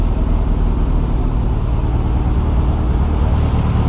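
Car fitted with a Honda H22 engine running steadily after start-up, following alternator and PCV valve work, with no belt squeal; a loud, continuous low engine rumble fills the clip without pauses.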